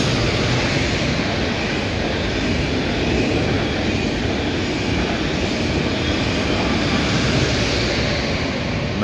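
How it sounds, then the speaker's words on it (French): A TGV Lyria train running from Lausanne toward Paris passes close by with a dense, steady roar of wheels and rushing air, loud and unbroken throughout. "Voici le TGV Lyria qui vient de Lausanne direction Paris."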